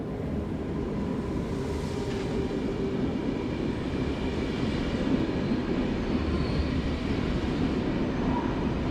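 Steady low rumble of a Swiss domestic intercity train running close by at a station, continuous and even throughout, with no voices.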